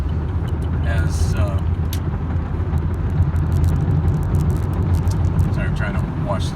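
Freeway traffic near construction lane closures makes a continuous, loud low rumble of passing vehicles with no breaks, and a faint voice may sit in the background.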